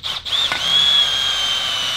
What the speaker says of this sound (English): Like I said, taking the drill.